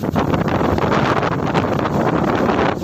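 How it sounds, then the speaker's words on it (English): Loud, continuous wind from Cyclone Tauktae making landfall in India, roaring and buffeting across the microphone, with gusts up to 120 km/h swelling and easing over a steady broadband rush; no voices. "The entire city is facing heavy rain and heavy gusts of wind."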